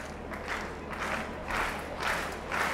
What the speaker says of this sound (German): Und jetzt gibt es anfeuernden Applaus von den Rängen, von den 1347 Fans hier im AOK-Stadion.